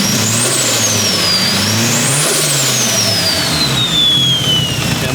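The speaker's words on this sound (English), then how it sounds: "Revving Evos together." Two Mitsubishi Evo cars, one an Evo 5 with a new turbo, rev together outdoors, a loud sustained engine roar with a high turbo whine rising and falling over it.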